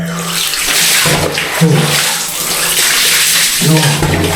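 Cold water from a storage tank poured over a person while bathing, loud splashing gushes arriving in several separate pours, close and unbroken by talk.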